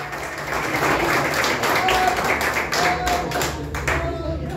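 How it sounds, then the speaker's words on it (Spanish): Loud, close clapping from a crowd at a birthday party with a mariachi band, a dense rattle of hands that continues throughout while voices rise through it. "Un aplauso para ustedes"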